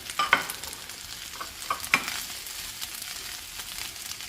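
Celery, carrots and broccoli stir-frying in a home pan for vegetable fried rice, a steady close sizzle broken by a few sharp scrapes and clinks of the spatula, with no voices.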